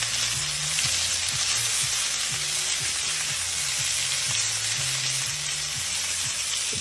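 Bacon sizzles steadily in a hot pan with a dense, continuous crackle and hiss, close and fairly loud, while a few soft scrapes or stirs come through underneath.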